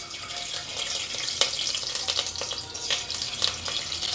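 Hot ghee sizzles and spits in a tempering pan for lentil curry, a bright steady crackle with scattered sharper pops, close and moderately loud.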